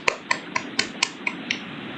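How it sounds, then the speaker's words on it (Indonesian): Children clap their hands together in a class, striking seven crisp, evenly spaced claps in a quick, steady rhythm. Each clap is sharp, with a slight ringing tail, over a quiet background. "Tepuk tangan untuk kita semua anak-anak."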